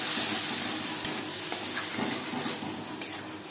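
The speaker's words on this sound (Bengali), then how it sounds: "20-25 সেকেন্ড জিরে ভেজে নেওয়ার পর দিয়ে দেব নারকেল, টমেটো" Coconut, tomato and green chilli paste sizzling in a pan of frying whole cumin, a steady soft hiss with faint clicks and stirring scrapes throughout, no voices.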